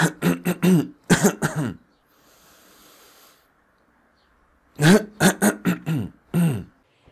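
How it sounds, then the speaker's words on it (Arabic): Someone coughs and clears their throat during a breathing exercise for a COVID patient: a rapid cluster of harsh bursts, a quiet pause, then another cluster, close and loud. "وهو بيخرج النفس يتنحنح او يكح عشان يخرج اي افرازات او اي بلغم"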